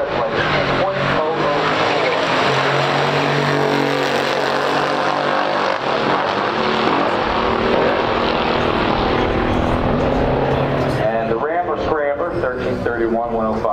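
A 1969 Chevelle SS and a 1969 AMC Scrambler race a pure stock quarter-mile drag strip, their engines roaring loud and continuous for the whole stretch, with talk over them.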